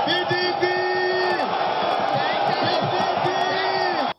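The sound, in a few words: crowd of party supporters cheering at a PDP rally in Benin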